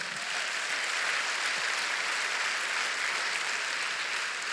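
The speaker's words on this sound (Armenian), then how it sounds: "եկեք ծափարենք" Sustained audience applause, dense and even clapping from many hands that stays steady and loud throughout.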